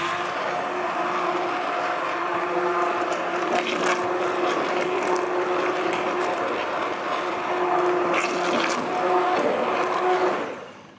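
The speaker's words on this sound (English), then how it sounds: "then on with your immersion blender" A steady motorized whir of an immersion blender puréeing Greek fava hums continuously at close range, with a few brief rattling bursts, before winding down at the end.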